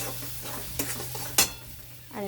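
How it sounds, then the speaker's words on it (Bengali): Spiced fish roe filling with garam masala and jaggery powder fries in a pan before being stuffed into pointed gourd. A quiet, even sizzle runs throughout, punctuated by a few spoon scrapes and taps against the pan. "ব্যাস, এটাকে আমি ভালো করে ভাজি।"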